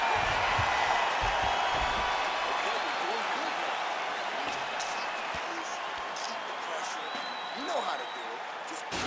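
Steady roar of a large arena crowd in a PS5 UFC welterweight bout between Kamaru Usman and Johny Hendricks, continuous cheering and murmur filling the clip, with scattered louder shouts and whistles near the end.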